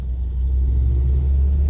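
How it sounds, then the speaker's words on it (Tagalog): Ford Ranger pickup crawling through heavy road traffic, a low steady engine rumble heard from inside, brief and even with no voices. "So guys, sobrang traffic dito, hindi tayo makatakbo ng mabilis"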